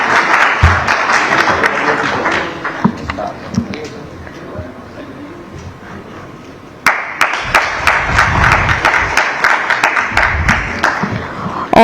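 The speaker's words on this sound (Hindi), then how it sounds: "तालियों के साथ स्वागत कीजिए।" Audience applause greeting a guest at the Sudarshan Conclave 2025, a Hindi-language conference: sustained clapping from a sizeable crowd that thins in the middle, then surges back loud and dense, with sharp individual claps over the wash.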